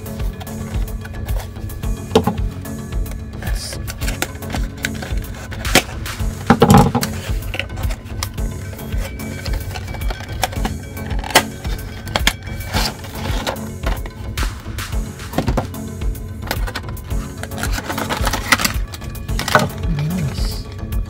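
Packaging of a Mini Station 1:64 scale model car, a trailer set, being opened by hand: a dense, steady run of close crinkles, clicks and rustles for about twenty seconds, with brief louder snaps now and then.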